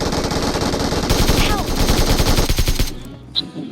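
Rapid machine-gun cover fire in BGMI (PUBG Mobile), a loud sustained burst of evenly spaced shots lasting nearly three seconds before cutting off, followed by quieter ambience and a single faint report.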